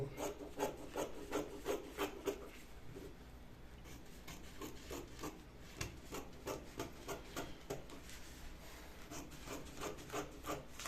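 Scissors cut through cotton shirt fabric on a table, a quiet, steady run of soft rasping snips and rubs repeating close by with no talk.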